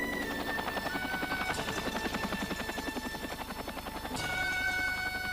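Distant military helicopter during the Vietnam War bringing supplies to remote hamlets, with a steady rhythmic rotor thump and engine whine, fairly faint, with no one speaking.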